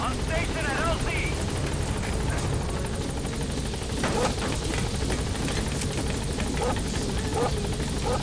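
B-Quad, the support helicopter in Metal Gear Solid V, arrives with a steady, loud rotor thump and engine drone throughout, while game voices and other effects break in over it.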